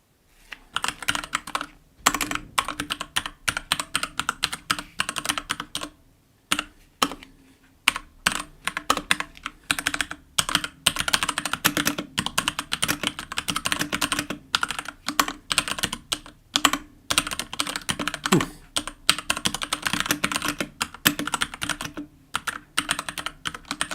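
Steady rapid typing on a computer keyboard, close and alone, with dense clattering keystrokes and a few brief pauses.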